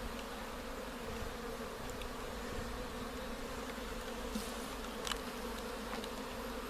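Honeybees droning steadily inside an open hive during early spring comb building, a continuous close buzz with a few brief sharper tones rising above it.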